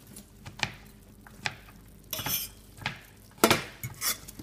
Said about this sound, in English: We kind of stir them up here again so you can see them.